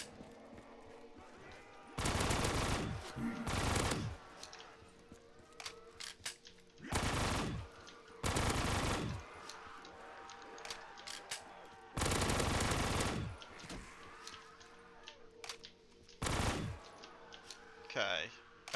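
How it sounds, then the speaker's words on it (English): Loud automatic gunfire in Black Ops 3 Custom Zombies, several long bursts separated by short gaps, close and dominant, with quieter game sounds between the bursts. "This gun's loud."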